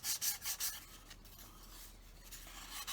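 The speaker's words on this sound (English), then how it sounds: "sand off the nibs." A wooden part from a vintage model kit of a Fokker Dr1 is lightly sanded, giving a soft, close rasping rub in a few quick strokes and then gentler, quieter scraping.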